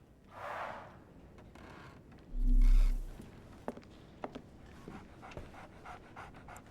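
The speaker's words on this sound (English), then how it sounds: "So, Barnes has a dog now." A dog pants in the Sherlock Holmes The Awakened video game, quick breathy huffs close by, with a brief low thud and faint footsteps and movement around it.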